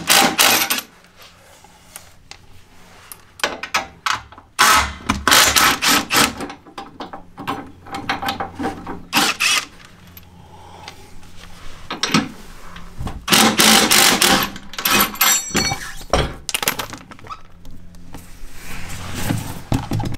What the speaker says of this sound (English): let me remove the tire so you get an idea of what that process looks like